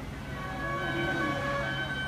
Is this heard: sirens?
yes